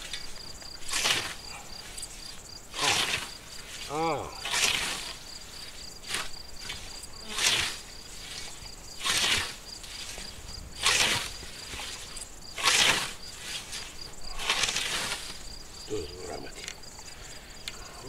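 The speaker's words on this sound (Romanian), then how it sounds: "Să se audă și greierii." Crickets chirping outdoors during hay mowing with a scythe in the countryside, a steady high chirr running throughout under repeated broadband swishes and brief voices in the background.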